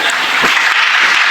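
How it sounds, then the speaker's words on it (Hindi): Applause from an audience at a religious discourse, a dense steady wash of clapping that fills the whole moment without pause. "10 मिनट में 2-2, 3-3 बार तालियां बज रही हैं"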